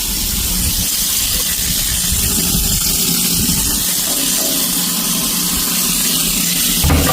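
Water runs from a sink tap on a mixer fed by hot and cold lines, a steady, close rushing hiss that holds unbroken for several seconds with no talk over it.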